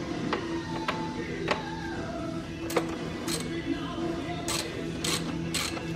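A ratchet with a swivel and T30 bit clicks while turning screws on a Mini Cooper mass airflow sensor, a series of close sharp clicks and short ratcheting runs over a steady background hum.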